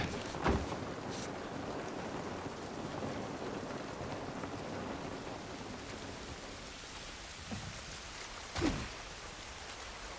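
Steady rainfall in The Last of Us Part I hissing over a soft low rumble, with a couple of brief louder splashes or knocks; no one speaks.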